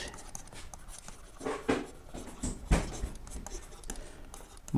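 A pen scratches across paper while a maths solution is written out, making soft, close, irregular strokes with brief pauses between them. There is no talking.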